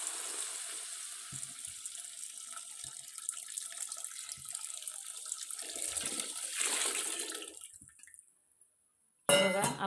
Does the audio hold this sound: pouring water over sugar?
yes